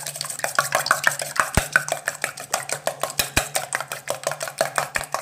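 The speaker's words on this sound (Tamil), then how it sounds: "இப்போ அந்த முட்டையிலேயே கொஞ்சமாக 1/2 டீஸ்பூன் அளவுக்கு உப்பு சேர்த்துட்டு நல்லா அடித்து விட்டுக்கோங்க" Eggs with salt are beaten briskly in a bowl for a prawn omelette, a fast regular tapping and clinking of utensil against the bowl repeating for the whole stretch, close and fairly loud with no talk.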